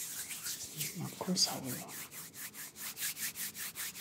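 Rhythmic rubbing strokes in an ASMR boyfriend roleplay, steady repeated brushing swishes close to the microphone, following a brief spoken phrase from a man.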